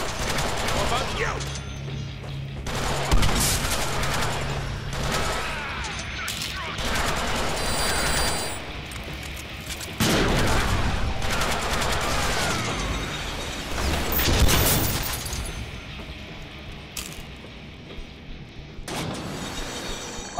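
Deadpool's guns fire in the Deadpool video game: repeated volleys and rapid bursts come in waves over about twenty seconds, mixed with mechanical clatter and game noise, with speech at times.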